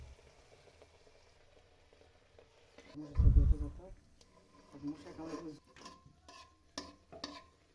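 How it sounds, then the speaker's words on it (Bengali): Bengali luchi frying in hot oil, a soft sizzle and bubbling that swells briefly loud as each puffy flatbread is ladled with oil, then settles into quieter crackling with a few clinks. "এভাবে একের পর এক লুচিগুলোকে ভেজে নেব।"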